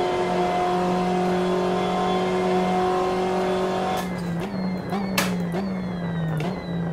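BMW M8 GTE race car in Assetto Corsa at a windy Mugello circuit, its engine droning steadily at high revs, then shifting and dipping as it brakes and accelerates with brief gear-change blips, loud and continuous with no talk.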